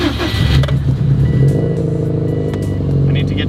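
A Subaru WRX with a swapped STI engine cranks and catches, then settles into a loud, close, rumbling idle as it warms up.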